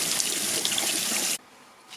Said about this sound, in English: now it's rinse it with water